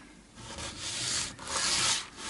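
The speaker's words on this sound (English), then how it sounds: "So a couple more swipes with the heavy duty stuff, and then I'm going to switch to the finer sandpaper" A guitar nut for a vintage Strat rubbed on heavy duty sandpaper, two close, quiet rasping swipes in quick succession, no talking.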